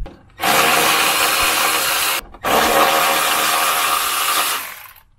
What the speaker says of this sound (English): So you could use a ratchet, but I have my electric ratchet